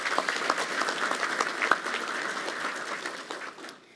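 Audience applause at a university academic year inauguration, a dense patter of many hands clapping at moderate volume, holding steady and then fading out near the end.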